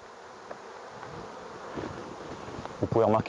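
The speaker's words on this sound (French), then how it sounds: "la ruche est très peuplée" Honeybees hum as a steady buzzing drone throughout a densely populated hive, with a louder, closer burst of buzzing near the end as a bee passes by the microphone.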